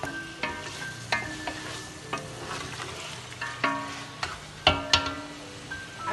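Beef for a Shujah Abadi style white pulao fries in oil that is starting to separate, a faint low sizzle broken by repeated sharp clinks and scrapes of stirring at close range, with no speech.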